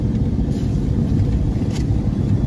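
Peugeot 206 car engine pulling hard, a steady, loud, close low rumble with a constant roar throughout and no voices over it.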